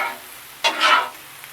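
Smash burgers cook on a flat griddle, their quiet sizzle broken by two short, brighter bursts of crackling partway through, and no one speaks.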